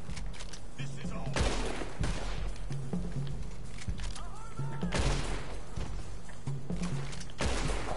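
Gunfire crackles in Red Dead Redemption 2 Online, with repeated sharp shots and bursts spread across the scene, loud and close, while a player's voice talks over parts of it.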